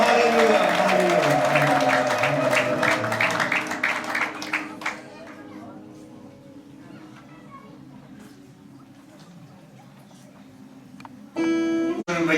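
A church congregation in Dessie claps rhythmically and cheers loudly during worship for several seconds, then the applause fades into quieter crowd murmur and chatter.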